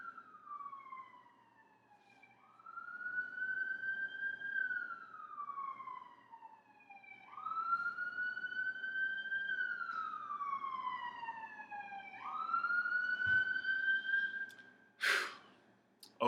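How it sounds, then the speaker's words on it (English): Police sirens wail in long rising-and-falling sweeps, three cycles growing louder as they pass, followed by a brief sharp noise burst near the end. "These fucking sirens, I swear."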